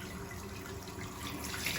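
A tap runs warm water for handwashing, a soft, steady splashing stream into a sink, heard close but quiet and continuous.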